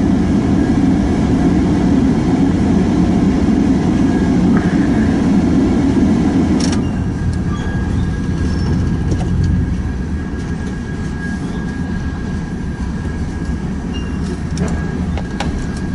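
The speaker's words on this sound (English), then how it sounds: "This train is going to head, well, it's heading north right now." Steady heavy rumble of a passing northbound BNSF freight train in a rail yard, continuous and loud throughout, with faint squeals and clanks from the rails, no voices.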